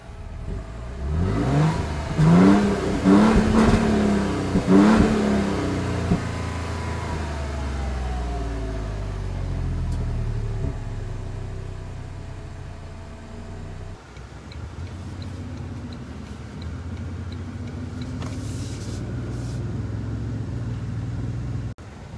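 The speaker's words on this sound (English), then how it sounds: "we got to see how this V6 exhaust sounds" A 2023 Toyota Tundra 1794 Edition pickup with TRD Off Road package and V6 engine, its exhaust revving loudly up and down in the first few seconds, then settling into a steady idle rumble with no talk.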